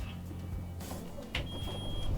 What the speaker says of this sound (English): you do get the warning sound as soon as you fire up low air